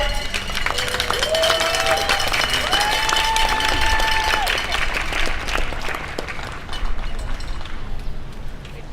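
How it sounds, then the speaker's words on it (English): Crowd applause at a May Day workers' rally fills the space with a continuous clapping roar, while cheering, whoops and shouts rise over it before it slowly thins out. "If we could give him a round of applause."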